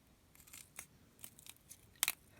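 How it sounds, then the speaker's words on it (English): Scissors snip out a circle of material for a homemade craft button, a few faint, close clicking cuts ending in one sharper snip. "Cut the circle out."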